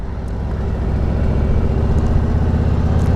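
A 2018 Harley-Davidson Street Glide police motorcycle on its stock exhaust, a deep steady engine rumble that swells slightly and holds, close and loud without speech.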